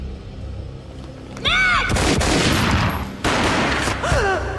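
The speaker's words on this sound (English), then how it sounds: "A gunshot boomed and she fell down in slow motion." Gunfire rings out in the Max Payne video game, several loud booming shots close together with sharp echoing tails, mixed with whooshing game effects and no talk.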